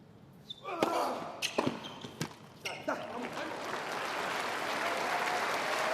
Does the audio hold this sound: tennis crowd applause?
yes